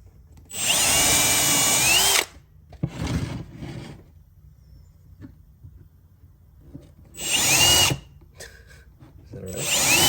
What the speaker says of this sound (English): we're going to drill a couple of 1/8 inch holes right there in the middle of this top